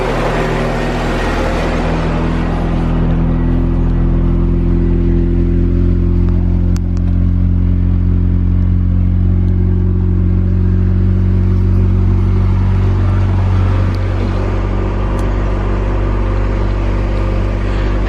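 A rescued station wagon fitted with an eBay turbo kit runs on its first start. The engine settles into a steady, quiet idle, with a smooth low hum that stays close and even throughout and no talk.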